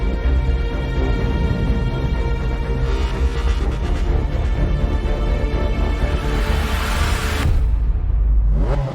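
A car lapping a race track, its engine droning loud and steady with rising whooshes as it accelerates, then a sharp cut to a deeper rumble near the end.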